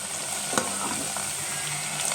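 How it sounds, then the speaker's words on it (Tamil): Butter melts and boils in a pan with a continuous close sizzle and bubbling, along with faint stirring and a brief clink, and no voices. "நல்லா வெண்ணெய் கரைஞ்சி கொதிக்க ஆரம்பிச்சிச்சு"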